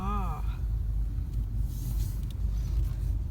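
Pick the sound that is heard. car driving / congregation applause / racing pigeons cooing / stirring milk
car driving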